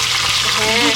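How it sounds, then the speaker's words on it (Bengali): Fish heads coated in turmeric and salt fry in mustard oil in a kadai, a loud, dense, continuous sizzle heard close up for a brief moment. "হলুদ লবণ মেখে মাছের মাথা দুটো এবার ভেজে নেব কড়াইতে দিয়ে দেবো সর্ষের তেল"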